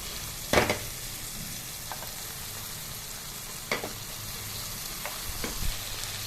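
Goat tripe fries with tomato and turmeric in a pan, a low steady sizzle broken by a few sharp stirring scrapes and clatters, with no one talking.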